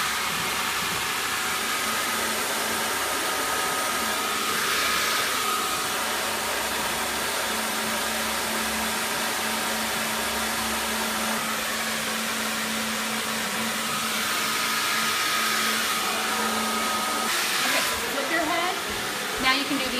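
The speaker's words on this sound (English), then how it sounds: "So the next step is we're going to diffuse the hair." A hair dryer with a diffuser attachment blows steadily while drying naturally curly hair, a continuous close whooshing drone with slight shifts as it moves.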